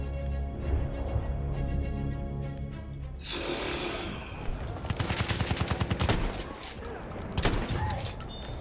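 Battlefield 1 gunfire, a sustained burst of rapid automatic shots followed by scattered single cracks amid loud battle noise, with a voice talking at the start.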